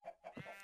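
A Minecraft chicken gives a quick run of close, soft clucks during a hardcore survival game, with no talk.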